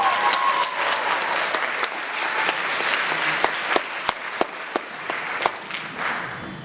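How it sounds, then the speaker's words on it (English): An audience at a high school one-act play festival applauds. The clapping is full and sustained, with several sharp, distinct claps standing out near the end. "can you all just take a moment to give a hand of applause to Shushin"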